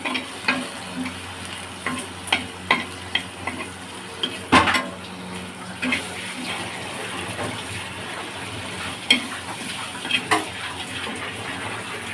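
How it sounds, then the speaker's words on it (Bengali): Dried fish being fried in a pan for a mash dish, giving a soft, steady sizzle with intermittent scraping and stirring clicks, moderately close and without talk. "শুটকিগুলো এখন একটু ভেজে নেব"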